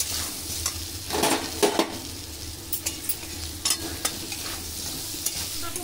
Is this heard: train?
no